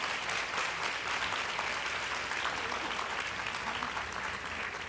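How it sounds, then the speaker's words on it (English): An audience at a Colombian fashion panel claps in a dense, sustained round of applause that holds evenly throughout. "So let's start with a round of applause for our two candidates."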